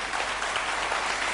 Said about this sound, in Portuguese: Agradeço os aplausos, mas poupem-nos, não preciso, não quero.